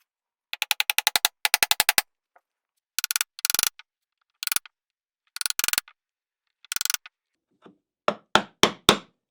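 A small chisel is struck by hand to chop wood while cutting inlaid dovetails, giving clusters of sharp, rapid taps and knocks separated by brief silences, close and crisp.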